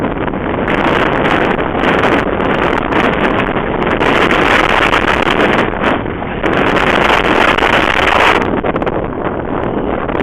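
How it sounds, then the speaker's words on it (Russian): Strong south wind after a blizzard roars continuously in Pavlodar Region, Kazakhstan, buffeting the microphone with loud, gusty rushing noise that never lets up. "Сильный ветер"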